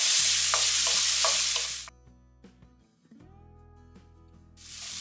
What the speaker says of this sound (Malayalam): ഇനി ഇത് നല്ലപോലെ വഴറ്റിയെടുക്കണം.